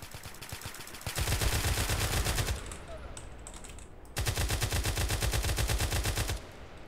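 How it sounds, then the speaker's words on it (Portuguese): Rapid bursts of automatic gunfire in a GTA multiplayer game, two long sustained volleys separated by a quieter stretch of distant shots. "Eita, passou um tiro aqui perto."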